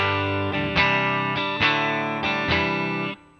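Clean electric guitar chords from a Telecaster through a Fractal FM3 ring out one after another, bright and sustained, each strum decaying before the next, ending with a fade.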